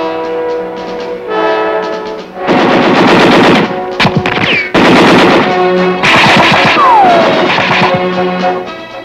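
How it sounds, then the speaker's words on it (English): Machine gun fire aimed at a training target simulating enemy personnel during an army infantry qualification exercise, loud rapid bursts repeating over several seconds with brief pauses between volleys. "A target simulating enemy personnel calls for machine gun fire."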